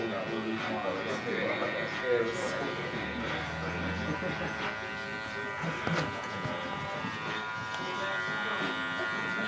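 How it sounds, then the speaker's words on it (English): Electric hair clippers buzz steadily and close during a slicked-back haircut, their hum running under a man's speech throughout. "I need to turn the clipper around and go down there"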